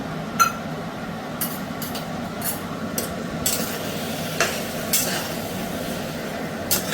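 A spoon stirs a flour slurry into a simmering pot of a Bengali home-cooked dish, making soft scraping and occasional clinks against metal, steady and close.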